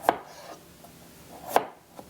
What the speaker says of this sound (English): all I'm gonna do is just cut these into pieces